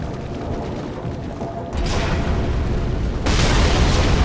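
Ballista in Dark Souls III loosing giant arrows at a lake, heard as two heavy booming launches about a second and a half apart, each stepping up a loud, rumbling wash of sound with no talk.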